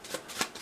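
Playing cards being shuffled by hand during a tabletop session of the Terminator Dark Fate card game, three quick soft riffling bursts, close and quiet, with no talk.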